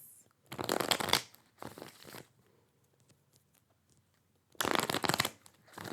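Tarot cards shuffled in two crisp riffling bursts separated by a quiet stretch, close and fairly soft.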